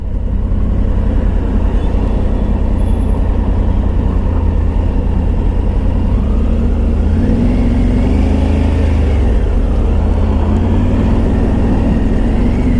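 A 2025 Triumph Tiger Rally Pro motorcycle on a test ride roars loudly and continuously up close under heavy wind rush. Its engine pitch climbs as it accelerates partway through, then holds a strong steady drone.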